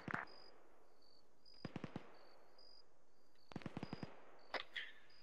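Gunfire in the military game Arma 3, short bursts of three or four sharp reports with long quiet gaps between them, and a steady high insect-like tone running through the background.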